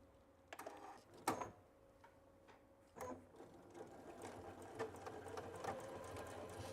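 A Baby Lock Sashiko quilting sewing machine stitches with green 80 weight thread in the top and bobbin. It starts with a few faint clicks and knocks, then settles into a soft, steady mechanical patter, quiet and close, with no talk.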